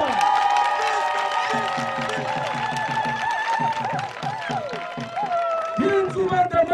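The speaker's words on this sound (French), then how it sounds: "Applaudissez pour Guy Zouba Dama" Crowd cheering and clapping for Guy Nzouba Ndama at a youth gathering in Mounana, with whoops and shouting voices over sustained applause and chant-like rhythmic bursts throughout.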